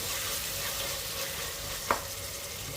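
Tomatoes sautéing in beef masala for a beef curry: a continuous, even sizzle in the pan with one brief sharp clink partway through, no talking.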